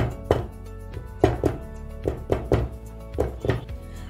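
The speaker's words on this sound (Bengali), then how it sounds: "এবার এটা একটু জাস্ট একটু ট্যাপ করে নিচ্ছি যাতে এয়ার বাবলস না থাকে" A cake tin filled with batter is rapped against a counter in a series of about eight dull, heavy thunks, some in quick pairs, close and distinct with quiet pauses between.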